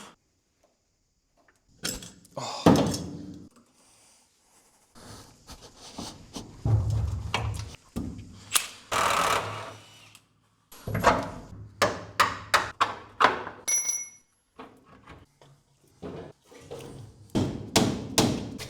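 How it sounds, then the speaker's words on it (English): A bigger hammer strikes parts of a Ford Cortina under restoration, delivering irregular loud metallic blows and thuds in clusters, with short pauses and a ringing clang. "We've got a slightly bigger hammer."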